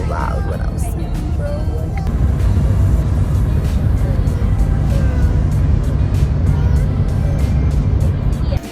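Steady low road rumble from inside a moving car, constant and close throughout, with a voice and other talk over it.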